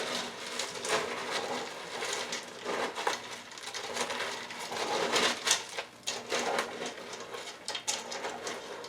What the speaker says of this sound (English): Now let's mix this all together.